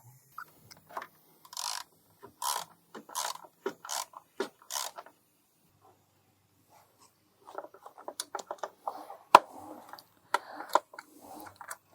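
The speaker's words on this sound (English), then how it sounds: "I'm just tightening it now until it seats" A ratchet wrench tightens a fitting on a car's EGR passage in bursts of rapid, crisp clicking. A pause of silence splits two groups of strokes, and the clicks sound close and clear with no talk.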